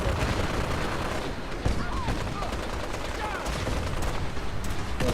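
Gunfire during a fight in the video game Fallout 4, with rapid bursts and scattered shots rolling on loudly and steadily against a busy battle din.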